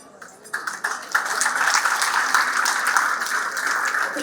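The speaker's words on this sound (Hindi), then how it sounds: "जोरदार तालियां हो जाए।" Audience applause at a fireside-chat style talk, starting with a few scattered claps and quickly swelling into steady, full clapping from a room of people.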